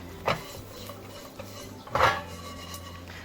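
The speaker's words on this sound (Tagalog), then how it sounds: "So what I just do is toss it on the pan." Cooked chicken tossed in a pan over a stove fire, giving two sharp metallic clatters of pan and utensil with a quiet stretch between them.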